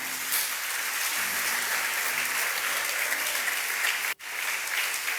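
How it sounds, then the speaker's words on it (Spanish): A church congregation applauds during a Spanish-language sermon, sustained even clapping with a faint low hum underneath and a sudden brief dropout near the end. "¿Cuántos le dan un aplauso a nuestro Padre Celestial?"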